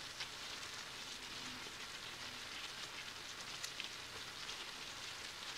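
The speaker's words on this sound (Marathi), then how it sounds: "आणि बारीक चिरलेला कांदा चांगला परतून घेणार आहे." Finely chopped onion fries in oil in a pan, producing a quiet, even crackling sizzle like light rain, steady for several seconds with occasional small spits.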